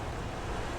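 Typhoon-driven ocean surf roars in a dense, loud wash mixed with gusting wind, steady throughout with no distinct breaks between waves.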